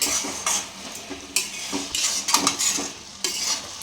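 Boiled carrots stirred in a metal pan for carrot laddu, a spoon scraping and clinking against the pan in repeated bursts over a soft simmering sizzle, close and fairly loud, with no talk.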